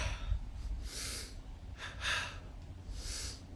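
Forceful yoga breathing during a four-part arm recharging exercise, several strong breathy inhales and exhales in an uneven rhythm, close and fairly soft, with no talking.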